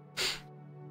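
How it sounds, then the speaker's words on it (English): A single short sneeze bursts out over a steady droning game soundtrack, loud and close for a moment before the music carries on alone. "The sneezing is real."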